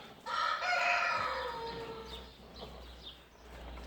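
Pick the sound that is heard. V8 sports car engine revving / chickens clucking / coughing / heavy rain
chickens clucking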